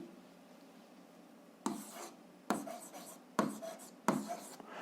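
Pen or pencil strokes on paper while writing out an algebra solution, several short scratchy bursts of writing separated by pauses, close and quiet, following a stretch of near silence.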